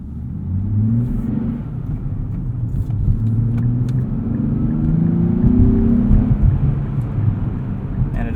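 A 2023 Nissan Z with a manual clutch drives smoothly, its engine a close, low rumbling drone that rises gently in pitch through the gears, with faint cabin clicks.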